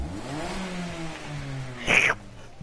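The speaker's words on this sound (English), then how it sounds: "I don't understand how a Mazda Miata sounds like that, though" A Mazda Miata engine in the Gran Turismo Sport racing game, a rising rev that climbs steadily in pitch and then ends in a brief louder burst before dropping away.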